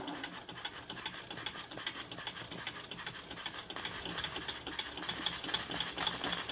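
A small Stirlingkit model steam engine with its boiler runs at full steam, a steady hiss mixed with fast mechanical rattling and ticking that holds constant and grows slightly louder toward the end.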